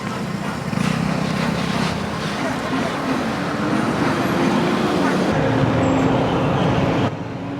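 Road traffic near the Sri Marathandavar temple in Kangkar Tebrau, Malaysia, during a kumbabishegam festival. A continuous close hum of vehicle engines and passing cars drones steadily throughout, with a faint whine riding above it.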